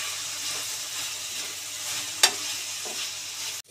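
Onion frying in a pan with garam masala gives a close, steady sizzle, broken by one sharp clink of a spoon against the pan and a softer scrape, with no talking.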